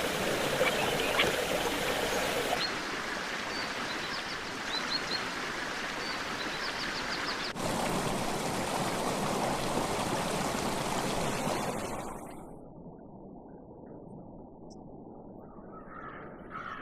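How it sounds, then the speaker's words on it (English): Spring water flows steadily at the En-Gedi oasis in a barren desert landscape, a dense, continuous rushing close by with faint bird chirps, and the sound turns softer and duller near the end. "the numerous springs of En-Gedi provide the only source of fresh water for miles"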